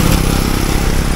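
A motorcycle engine runs steadily and close by, with a rough low-pitched throb and a continuous chugging rumble that holds an even loudness throughout, with no voices.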